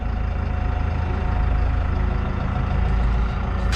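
A New Holland TD5.110 tractor with a new-generation engine idles close by, a steady low rumble with a faint harmonic whine holding level throughout.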